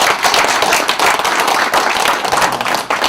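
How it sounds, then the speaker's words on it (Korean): An audience at a Korean gathering on preserving the Hunminjeongeum manuscript claps loudly for an honoree, a dense burst of close, crisp hand claps continuing evenly throughout. "베이키 씨에게 박수합니다"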